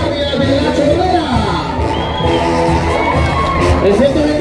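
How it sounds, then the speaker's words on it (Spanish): A crowd at a 12 September school parade in La Chorrera cheers and applauds a school band, loud sustained shouting, whoops and children's voices blending with clapping and a continuous babble. "Fuerte el aplauso"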